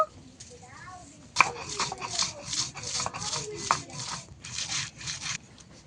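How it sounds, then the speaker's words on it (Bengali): Ginger being ground to paste by hand on a stone, heard as a run of rhythmic, rasping scrapes and rubs, close and fairly loud, with a voice talking over it. "আমি এইভাবে আদা বাটা করে নিয়েছি"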